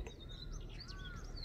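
A brief burst of outdoor birdsong near a float-fishing spot, a few quick chirps and a short whistled phrase over a low, steady background hum.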